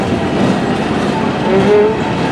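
An empty Norfolk Southern coal train rolls past at a railroad festival in Appomattox, Virginia, with a loud, steady rumble and rail clatter close by and a faint squeal of wheels.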